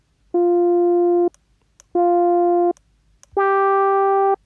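Three sustained tones from the Yonac Magellan 2 synthesizer with filter contour applied, each about a second long with short gaps between, the last slightly higher and brighter, heard alone.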